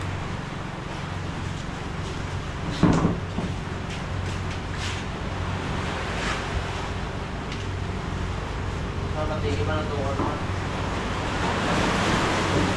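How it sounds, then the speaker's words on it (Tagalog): Strong sea waves churning near a small wooden service boat, a continuous rushing wash with wind buffeting the microphone, steady throughout, with a brief bump and a short spoken remark in the middle. "Ang lakas ng alon mga kabisik, oh."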